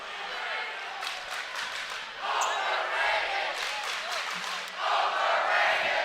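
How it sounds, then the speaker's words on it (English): The crowd at a boys varsity high school basketball game, Lakota East Thunderhawks at Lakota West Firebirds, cheers and roars in swelling waves, with shoe squeaks and ball bounces under the noise and voices talking throughout. "The crowd gets a little bit into it now."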